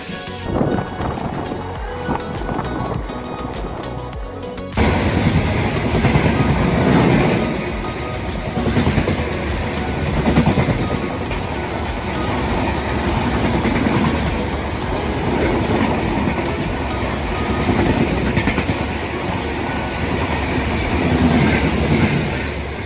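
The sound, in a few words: passing train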